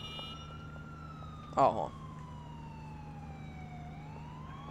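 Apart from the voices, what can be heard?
police car siren in video game GTA 4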